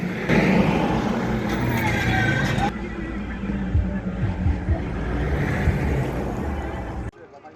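Buses carrying voters roll in from Bolgatanga under military escort at Bawku on an election morning, a steady, loud rumble of heavy engines and road noise that runs continuously before cutting off abruptly near the end.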